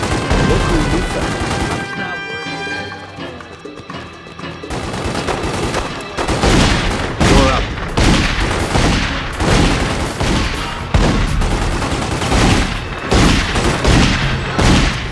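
Bursts of machine-gun fire and booming shots in The Godfather 2 game, loud and close, coming in rapid volleys after a brief quieter lull, with some voices underneath.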